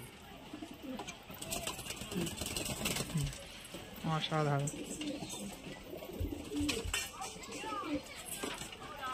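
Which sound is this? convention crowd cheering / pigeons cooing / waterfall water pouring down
pigeons cooing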